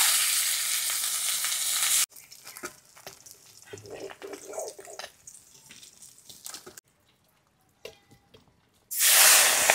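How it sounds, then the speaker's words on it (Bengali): Khoira fish frying in a pan hisses in a loud, steady sizzle at the start and again at the end, with quieter kitchen clatter and a voice in between. "এই মাছগুলো একটু সাবধানে ভাজতে হয়,"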